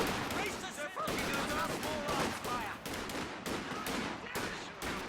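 Rifle fire crackles in a strategy game battle, rapid overlapping shots in irregular bursts, heard under a caster's steady commentary.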